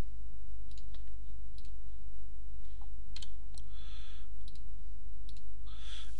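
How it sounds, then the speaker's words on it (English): Sharp computer mouse clicks on a software button, several brief isolated clicks spaced irregularly over a steady low electrical hum, close and clear. "if you click on this button here"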